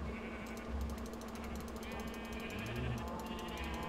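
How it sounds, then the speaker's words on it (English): Sheep bleat in the Minecraft video game as the flock gathers for wheat, repeated bleats over a mechanical clicking background. "Come here, sheeps. Eat the wheat, sheeps."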